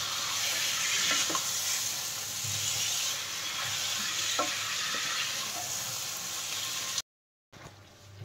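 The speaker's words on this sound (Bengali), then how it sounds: "এই যে দেখতে পাচ্ছেন যে একদম চিকেন কষানো চলছে" Spiced chicken for a Sunday chicken curry sizzles loudly in a pan as it is stirred, a constant close hiss with occasional scraping clicks, cutting out briefly before the frying noise resumes.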